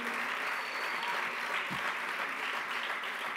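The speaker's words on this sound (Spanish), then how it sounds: "Un aplaudiment el Gustavo Duc." Steady, dense applause from an audience at the Premis Ones 2022 award ceremony, a continuous wash of clapping that holds evenly from start to finish with no voices over it.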